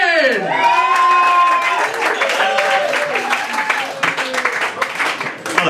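Comedy show audience in Brighton claps and cheers for a stand-up comedian, with whoops and shouted voices over steady applause that gradually thins out.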